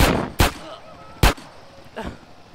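Loud, sharp video game gunshots from a gang shootout in GTA San Andreas burst out in a close sequence, one at the very start and two more spaced apart, then a softer shot near the end.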